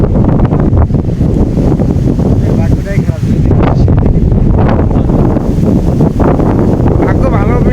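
Storm wind roars loud and continuous across an open wetland, buffeting the microphone with heavy low rumble and gusts, while someone talks over it throughout.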